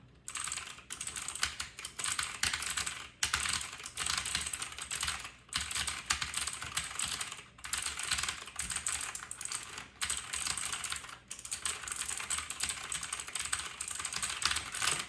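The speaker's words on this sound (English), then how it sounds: "Right when the switch goes down, the first thing is a high-pitched click." Rapid typing on a Corsair K95 RGB Platinum mechanical keyboard with clone MX Blue switches, dense clicky keystrokes in bursts separated by short pauses, close and crisp.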